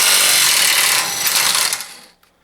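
An Ingersoll Rand W5330 cordless right angle impact wrench breaks an 18mm nut free on a suspension bolt: a loud, dense, continuous rattling burst for about two seconds, then it stops abruptly into quiet.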